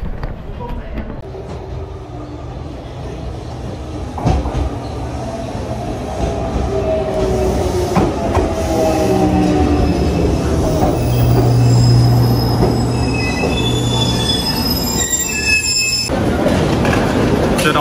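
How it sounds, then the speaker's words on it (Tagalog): A JR train passes on a line near Nanzoin Temple in Fukuoka, its wheels squealing in long high-pitched tones over a rising rumble of rolling railcars, loud and close. "Yan yung train na sinakyan."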